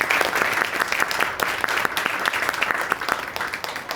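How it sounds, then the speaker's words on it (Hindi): Lively applause from an audience at a theatre workshop, dense rapid clapping with distinct sharp claps standing out, close and sustained throughout. "जो अनुज के लिए तालियां हो."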